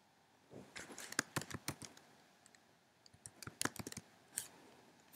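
Computer keyboard typing: irregular bursts of sharp, quiet keystroke clicks close up, with short pauses between clusters and a final louder key press.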